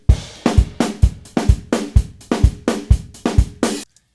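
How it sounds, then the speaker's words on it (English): A dry, unprocessed drum kit plays a steady groove: punchy kicks and sharp snare and cymbal hits alternate in an even rhythm, close and loud, then stop. "Today we're taking drums that sound like this"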